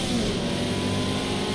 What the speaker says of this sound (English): you can hear the dump valve going off